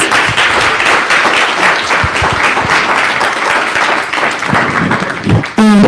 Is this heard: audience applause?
yes